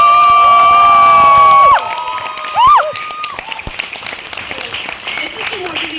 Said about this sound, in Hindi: एक बार जोरदार तालियां या हुटिंग से